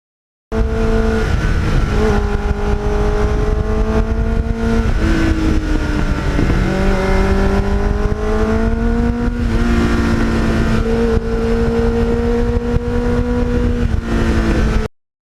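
A 1989 Kawasaki GPX750R motorcycle fitted with a Muzzy muffler revs steadily and loudly at close range, its exhaust note rising and falling through repeated throttle swells for the full length.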